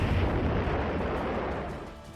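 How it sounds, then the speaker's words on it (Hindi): A missile strike on a military site in a war zone lands as one heavy, sustained roaring blast with a dense low rumble, slowly easing off over a couple of seconds. "मिसाइल की आवाज से पूरा इलाका थर्रा उठा"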